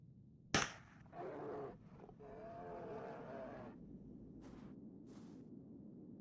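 A single loud rifle shot rings out in Alpha Polaris as a bear is shot, a sharp crack with a short decay that fades into quiet rumbling ambience and light rustling.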